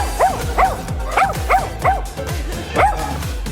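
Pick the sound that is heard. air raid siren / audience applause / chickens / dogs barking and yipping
dogs barking and yipping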